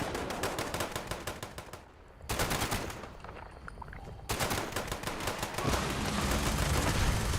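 Rapid, sustained automatic fire from a Gatling laser in Fallout 76, loud bursts of repeated shots with short pauses between volleys, alone without talk.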